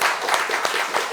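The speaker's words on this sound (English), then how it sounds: "Let's give a round of applause for those of you who are running for local office." Brief burst of audience applause for local office candidates at a community engagement event with presidential candidate Julian Castro, dense steady clapping from a crowd lasting about a second.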